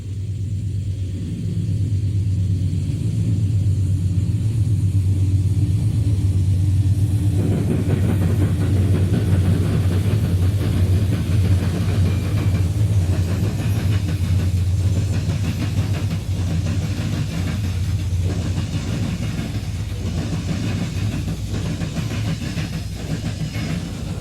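A CSX northbound freight train passes through a rail junction with a loud, steady low rumble that holds for the whole stretch, growing denser with rolling clatter partway through.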